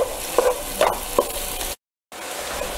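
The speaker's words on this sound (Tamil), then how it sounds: "இதில் நம்ம அப்படியே இதை சாட்டே பண்ணால் போதும்." Onions sautéing in a pan for biryani, a soft steady sizzle with a few stirring scrapes, then a brief silence before the frying resumes.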